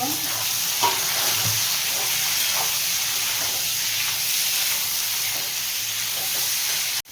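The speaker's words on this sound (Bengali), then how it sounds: "পেঁয়াজটা ততক্ষণে ভাজা হতে থাক" Chopped onions frying in a pan on lowered heat for a chicken curry, a continuous close sizzle with occasional stirring scrapes, steady throughout and cut off abruptly at the end, no talking.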